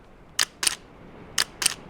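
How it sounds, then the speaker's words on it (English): A single-lens reflex camera firing at a slow shutter speed, two crisp double clicks where the shutter opens and then closes after a short delay, close and clear in a quiet room. "Right, that's a slow shutter speed."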